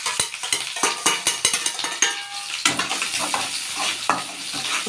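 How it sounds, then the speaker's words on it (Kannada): Curry leaves and three green chillies frying in hot oil in a pan, a busy crackling sizzle broken by quick rhythmic spoon stirs and clinks against the metal, with no talking. "ಫ್ರೈ ಮಾಡಬೇಕು ನೀಟಾಗಿ."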